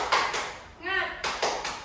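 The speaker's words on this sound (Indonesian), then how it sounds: "Jadi, ini tepuk semangat." A teacher leads a classroom of pupils in a rhythmic spirit clap during a micro-teaching lesson, with short bursts of clapping on either side of a brief spoken word.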